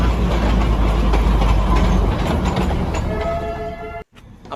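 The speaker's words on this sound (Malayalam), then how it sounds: "അപ്പം നമ്മുടെ ട്രെയിൻ പുറപ്പെടുകയാണ്." Darjeeling Himalayan Railway train pulling away on its way toward Ghoom station, a steady loud rumble of rolling wagons and engine with faint whining wheel squeal near the end before the noise cuts off abruptly.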